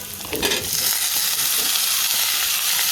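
Whole cumin seeds crackle and hiss as they are stirred in a hot pan, a loud, close, dense sizzle with a scraping stir near the start, continuing steadily without speech.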